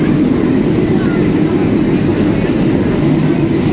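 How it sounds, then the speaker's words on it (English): A Tom and Jerry roller coaster train at Parque Warner Madrid, heard as a continuous loud low rumble and roar of the cars running on track, with no clear breaks. "So next up is this Tom and Jerry roller coaster."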